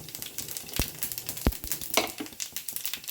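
Urad dal, chana dal and cumin seeds sizzling and spluttering in hot oil for a vegetable adai, with a soft steady crackle and a few sharp pops and scrapes close by.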